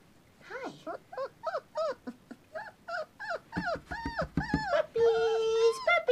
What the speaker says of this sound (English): Puppies! Puppies! Puppies!